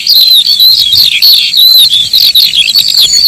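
A skylark sings a rapid, unbroken stream of high warbling trills and chirps in the Mendip Hills, Britain, loud and close, pouring out continuously without pause.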